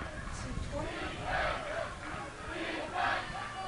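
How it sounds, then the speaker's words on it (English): Spectators at an ultimate frisbee game between Rainmakers and Dogfish chant in rhythmic, repeated swells, a moderately distant crowd chant rising and falling about every one and a half seconds. "Crowd chanting defense"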